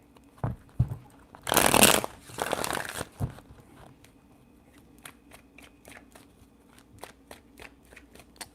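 Tarot cards are shuffled in two loud riffling bursts, followed by a series of soft taps and snaps as the deck is squared and cards are laid down, all without talk.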